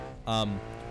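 A sports car engine in the BeamNG driving game roars loudly in a short burst, rising sharply then dropping back to a steady idle hum, with harmonic engine tones throughout and talk alongside.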